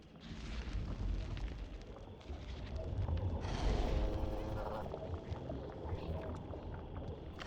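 A bomb fired and exploding in a fantasy puzzle-adventure video game, heard as a loud, broad booming rumble that swells midway and lingers under other game noise.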